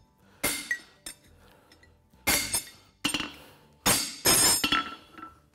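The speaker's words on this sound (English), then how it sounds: "And just go through with a back punch to square the nail holes up." A farrier drives a back punch through the nail holes of a Swiss-style hind horseshoe. Loud, close, ringing metallic hammer strikes come singly and in quick pairs with short pauses between.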